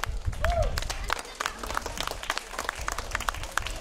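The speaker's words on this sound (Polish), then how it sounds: "gorące brawa dla naszych muzykantów" Steady applause from an audience for a regional folk song and dance ensemble in Stróże, Poland, dense clapping that carries on without pause, with a few voices mixed in.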